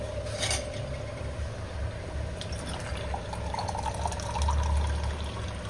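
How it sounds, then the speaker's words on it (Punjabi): Water trickles and drips into a pot of rice, a soft, continuous splashing that stays fairly faint. "ਥੋੜਾ ਪਾਣੀ ਵਿੱਚ ਹੋਰ ਪਾਣਾ"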